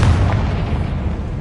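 A Confringo fire spell in a wizarding video game blasts out as a dense, steady low roar with a rumbling, fiery burst that fills the moment without any talking.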